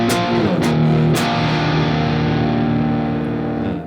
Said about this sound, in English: That sounds a little bit more traditional, what you typically expect when you're turning on an overdrive